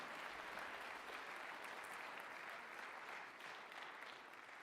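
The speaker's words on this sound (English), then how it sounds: "let's give the supervisors that are backstage a nice round of applause" A winter band concert audience of middle and high school families gives a sustained round of applause, faint and distant, holding steady before easing slightly at the end.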